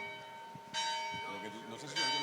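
Church bells ring at moderate distance with sustained tolling tones that swell in and overlap, while people talk in Spanish over them.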